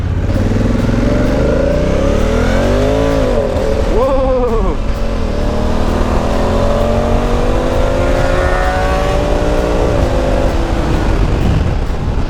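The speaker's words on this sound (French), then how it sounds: "Une petite montée dans les tours, tout en restant linéaire, vous laissera entendre le doux son de son pot d'origine" Honda CRF1000L Africa Twin motorcycle with its stock Euro 4 exhaust revs and accelerates through several rising engine sweeps, loud and steady under constant wind noise, with a speaking voice present.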